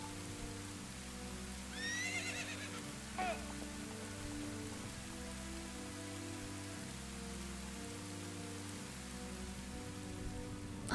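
Steady rain hiss from The Legend of Zelda: Ocarina of Time fills the whole stretch at an even level, running under looping game music, with a brief horse whinny early on.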